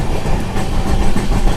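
A long-distance passenger train runs on the rails with a loud, continuous rumble and a faint rhythmic clatter of wheels, heard from inside a general coach.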